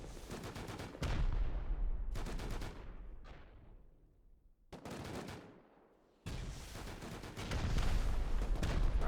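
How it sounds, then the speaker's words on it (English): Rocket explosions hit a base during a raid in the game Rust, landing as a series of heavy booming blasts about a second apart, each trailing off in a rumbling decay before the next strike. "Rockets continue."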